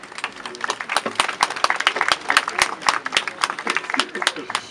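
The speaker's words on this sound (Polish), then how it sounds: "I też można klaskać." At an evening patriotic campfire singalong, a crowd claps along in a steady, uneven rhythm, sharp hand claps popping over a background of voices.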